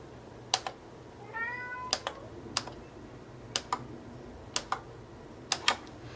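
A house cat lets out one short, rising meow in a quiet room, set among sharp, evenly spaced clicks and taps from paper craft work with a hole punch.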